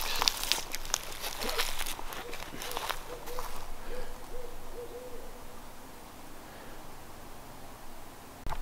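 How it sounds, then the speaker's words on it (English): Soft hoots from an owl sound several times in a row at a distance, over faint rustling and footsteps outdoors. "Hear the owl?"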